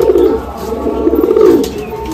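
Madrasi pigeons coo in a loft, low rolling coos repeating steadily and fairly close, with faint background chirps and no talk.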